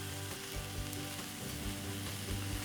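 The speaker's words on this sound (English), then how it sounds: "add a little extra virgin Greek olive oil to that and get the leeks into the frying pan" Leeks fry in extra virgin Greek olive oil in a frying pan, giving a steady, even sizzle with faint crackles. The sound is quiet and continuous, with no talking.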